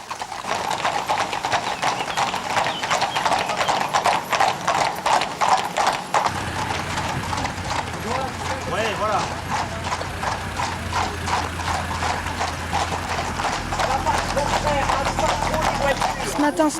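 Horses on a trail ride clip-clop steadily with rapid rhythmic hoofbeats, close and continuous, while people talk over them.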